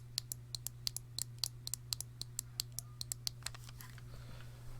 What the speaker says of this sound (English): it also has the trigger buttons, which still sounds like mouse clicks when you touch them.